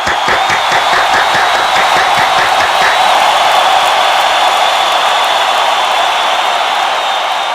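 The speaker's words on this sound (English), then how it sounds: "keep those applause coming" An audience at a live show keeps applauding after the performer Swallo's act, a dense, loud, steady wash of clapping with no break.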